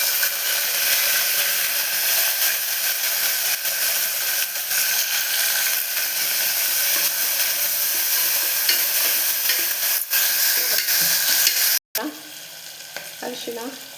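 Chopped onions frying in a pan for cabbage dal, producing a loud, dense, steady sizzle that runs unbroken, then cuts off abruptly near the end and gives way to quieter clatter.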